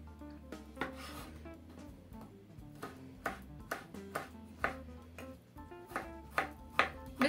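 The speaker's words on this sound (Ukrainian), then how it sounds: "Нарізаю наші фрукти." A knife cuts fruit on a board for a no-bake cake, with quiet, steady, rhythmic chops that grow slightly louder and quicker toward the end, close by in a kitchen.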